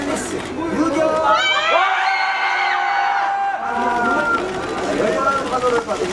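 A crowd at an idol photo event greets Elris member Yukyung with enthusiastic cheering, high shrieks and shouts rising and falling, while a host speaks over the noise.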